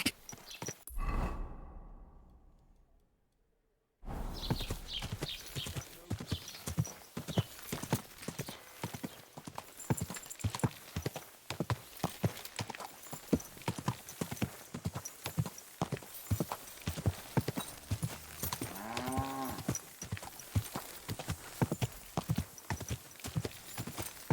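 Steady clip-clop of horse hooves trotting in a quick, even rhythm in the video game Kingdom Come: Deliverance 2, with a brief silence near the start and a short whinny-like sound later.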